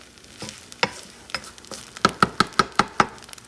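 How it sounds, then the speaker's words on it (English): A utensil stirs rice in a pan for a beef stir fry bowl, scraping and tapping about a dozen times, with the last six knocks coming in a quick even run over a soft sizzle. "Stir it around."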